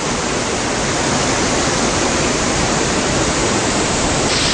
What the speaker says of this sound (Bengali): চলে এসেছি কিউখোলা ফলসের সামনে। জলের বেশ স্রোত দেখতে পাচ্ছি এখানে।